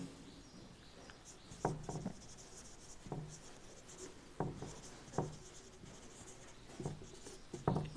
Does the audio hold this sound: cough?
no